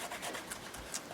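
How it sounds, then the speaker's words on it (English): A fingertip rubs Treasure Gold gilding polish over a frame on a journal cover, giving a close, continuous soft rasping and scrubbing texture in short repeated strokes, with no voices. "I'm just going to put a little bit on my finger, rub it on my mat, and I'm just going to go over"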